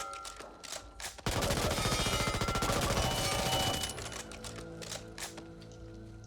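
An MP5 submachine gun in the video game Back 4 Blood fires a rapid, sustained burst of about three seconds, loud and close, with scattered single clicks and shots before and after.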